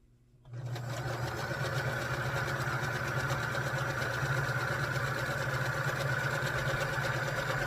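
A sewing machine runs steadily after a short silent start, stitching quilt sections together with a continuous, even mechanical whir and fine rapid ticking, fairly loud and close, with no talk.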